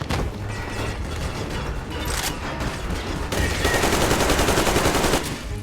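Heavy, continuous gunfire in Metro Exodus, rapid overlapping automatic bursts and sharp shots layered over a dense roar, staying loud and steady throughout.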